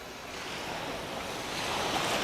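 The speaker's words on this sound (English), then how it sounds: "listening to the waves crash while enjoying the beautiful views" Steady, soft ocean surf rolls onto a waterfront beach, a continuous wash of waves that slowly swells in loudness, with no voices over it.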